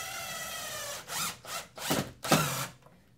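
A drill countersinks a screw into a post of an elevated garden planter, giving a few short whirring bursts over about two seconds, close and faint, with no voices.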